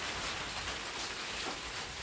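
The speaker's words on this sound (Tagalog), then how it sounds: "Na guys, tag-ulan na talaga." Steady rainfall during the rainy season in the Philippines, a soft, even hiss of drops on surfaces, continuous and moderately faint with no voices.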